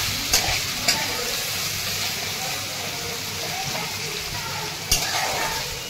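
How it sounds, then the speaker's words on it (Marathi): Garlic, onion, peanuts, green chilli and curry leaves sauté in oil in a pan, a constant close sizzle and hiss with a few sharp spatula knocks against the pan scattered through it. "तर हे आता छान परतून घेत आहे"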